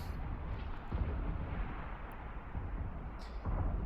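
Ship weapons firing at NPCs in Eve Online, a continuous low rumbling barrage with dull repeated thumps and bursts, fairly quiet and steady throughout.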